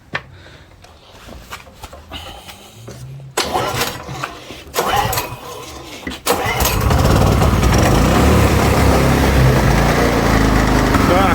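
A wrecked Audi S1's engine cranks with a few sputtering attempts and some handling noise, then catches and roars into a loud, steady rumble close by.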